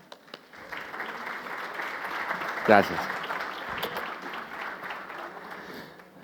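Moderate audience applause welcoming a speaker at a business data-intelligence talk, a steady patter of clapping across the room, with a short spoken word from a man partway through.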